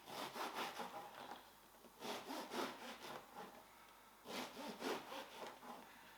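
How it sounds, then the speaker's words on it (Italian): A knife saws through a loaf of homemade crusty bread in several bursts of rough back-and-forth strokes, close and fairly quiet, with short pauses between the cuts. "Quindi taglio il pane"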